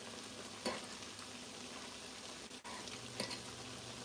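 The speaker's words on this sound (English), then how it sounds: "Okay, they're frying good." Salmon patties sizzle steadily in a hot frying pan, a constant crackling hiss with occasional louder spatters and no voices.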